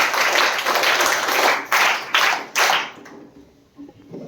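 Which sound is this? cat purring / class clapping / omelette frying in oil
class clapping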